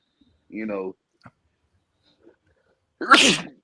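A brief vocal sound, a pause, then a single loud, close sneeze.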